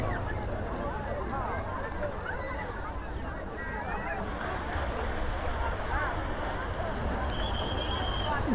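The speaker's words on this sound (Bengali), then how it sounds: "এই যে ঢেউ আসছে দেখতে পাচ্ছেন পচুন্ড" Sea waves wash steadily onto the shore at New Digha beach, a broad continuous rush of surf with wind noise and a crowd nearby, and a voice speaks over it.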